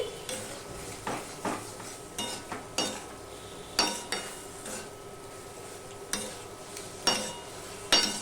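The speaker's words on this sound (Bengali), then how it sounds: "মাছের মাথার সাথে মশলাটা আমি একটু কষিয়ে নেব" Fish heads with spices are stir-fried for a Bengali fish-head dal, with a soft sizzle under repeated scraping and clinking of a spatula against the pot at an uneven rhythm, close and moderately quiet, with no talk.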